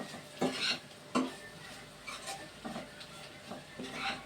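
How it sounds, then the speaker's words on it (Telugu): Prawns with salt and chili powder are stirred in a pan, with a spoon scraping in several distinct strokes, light clinks of metal and a soft sizzle underneath, close and fairly quiet. "మంచిగా కలుపుకోవాలి, అన్నీ పట్టేలా కలుపుకోవాలి మంచిగాని"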